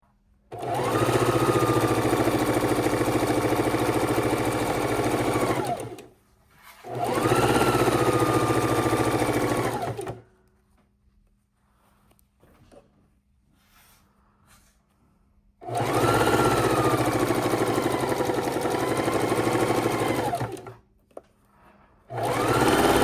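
A sewing machine stitching quilt blocks together for a patriotic quilt, running in three long steady whirring bursts separated by short pauses and one longer quiet gap, loud and close, without talk.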